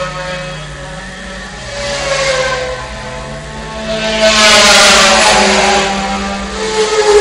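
Formula 4 race bikes accelerating at a Southern Downs road race: loud engines climb steadily in pitch and swell as they roar past, with the noise building toward the end.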